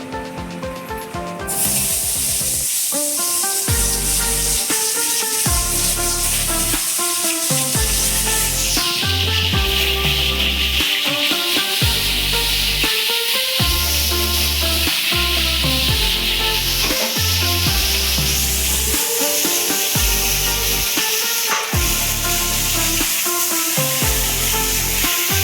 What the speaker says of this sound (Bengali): এবারে দেখো আমি একটা একটা করে পটল ছেড়ে দেবো